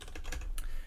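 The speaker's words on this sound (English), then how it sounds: "I can type in" Rapid typing on a computer keyboard while entering a web address, a quick close burst of key clicks lasting under a second.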